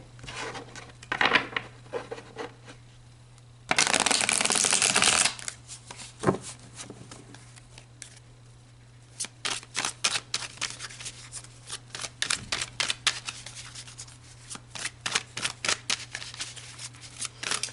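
Tarot cards shuffled close up in a quiet room, coming as bursts of dense riffling and rapid flicking patter, with a loud continuous riffle in the middle and a long run of quick card snaps toward the end, no talking.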